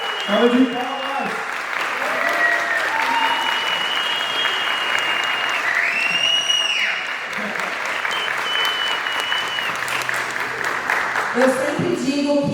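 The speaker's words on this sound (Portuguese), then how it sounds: "Salva de palmas." Sustained audience applause at a school cultural show in Brazil, steady and dense for the whole stretch, with a few voices and cheers rising near the start and end.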